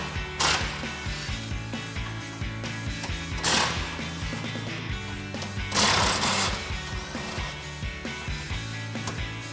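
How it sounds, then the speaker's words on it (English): A socket wrench ratchets out 13mm bolts from a bumper bracket on a 2021-2024 Ford Bronco, giving repeated close metallic clicking with a few louder clanks and bursts of handling noise. "So now we can take our 13mm socket to get these 4 bolts out."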